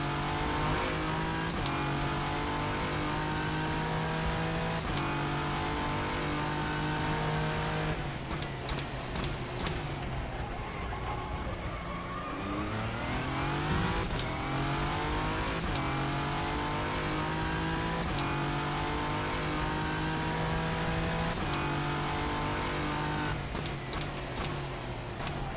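A race car engine on a sim track in rFactor 2 at Sebring, steady droning revs rising and falling through gear changes, with sharp shift clicks and a dip then climb in pitch midway.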